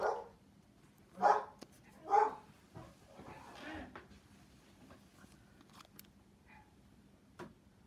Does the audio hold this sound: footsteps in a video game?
no